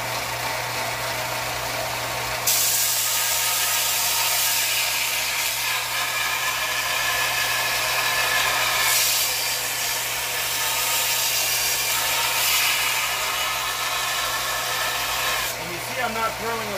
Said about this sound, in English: I get a lot smoother edge on my blades, and I don't heat up the edge as much with my belt sander